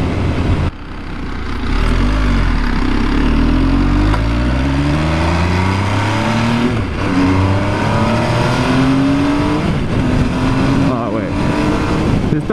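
A 2020 MV Agusta Superveloce 800 sport motorcycle engine revs up and holds a loud, rising roar with harmonic sweeps as it accelerates through several gears, close by.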